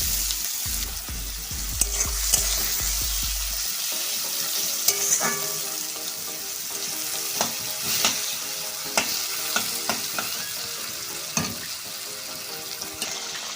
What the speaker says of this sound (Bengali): দেখুন পেঁয়াজটা আমি লাল লাল করে ভেজে নিচ্ছি।